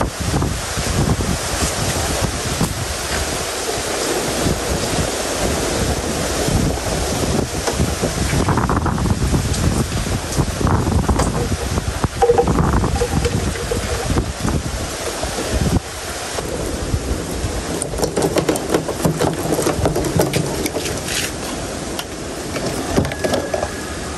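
Strong wind buffets the microphone in heavy gusts at a seaside hut over a steady roar of surf, loud and continuous with no voices.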